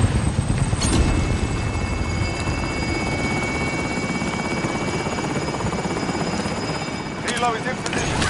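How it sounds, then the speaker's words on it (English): Helicopter rotor thudding steadily overhead in a military video game, a loud continuous drone with a constant engine whine, holding level throughout with no talk. "Helo is in position."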